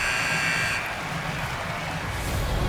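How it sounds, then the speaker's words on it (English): End-of-period buzzer in the NHL 25 ice hockey video game, a loud steady electronic blare for under a second that cuts off, leaving arena crowd noise. "There's the buzzer bringing the second period to an end."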